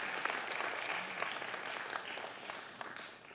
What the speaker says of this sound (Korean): 크게 한번 축하의 박수 한번 해주세요